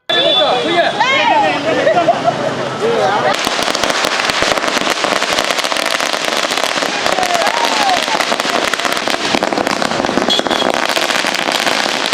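Firecrackers burst in a dense, continuous crackling barrage at a Congress party celebration outside the Chikkaballapur party office, loud and close, with crowd noise blended underneath.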